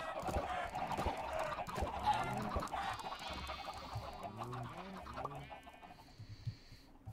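Minecraft chickens cluck in a steady run of short, nasal calls over a busy background of game sounds, fairly close and moderately loud throughout.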